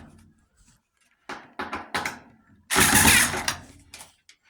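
Screws being removed from a Samsung washing machine panel with a ratcheting tool, heard as several close, short mechanical clicking bursts followed by one louder sustained ratchet whirr, with quiet gaps between.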